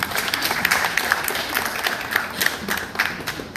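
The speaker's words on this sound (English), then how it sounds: "Let's clap for them." Audience applause at a World Tourism Day launch event in Uganda, a steady wash of clapping from a crowd with a few sharper claps standing out, moderately loud and sustained throughout.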